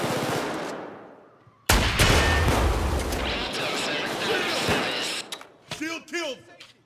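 A rocket launches at a shield enemy during a Hoxton Breakout heist in a first-person shooter: a sudden loud blast and roar cut in over gunfire, followed by a rumbling tail and scattered shots, with a voice speaking near the end.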